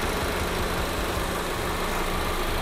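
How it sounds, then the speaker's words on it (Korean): A Volkswagen Passat 2.0 TSI engine idling in the engine bay, a steady, even hum that holds constant throughout, close and moderately loud with no voices. "엔진 소리도 일정합니다."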